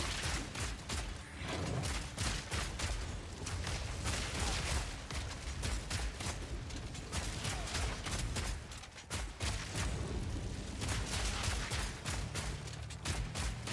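Fragment rounds fire in rapid, dense bursts in Path of Exile 2, a nearly continuous crackling fusillade of shots and impacts that runs the whole stretch at steady loudness.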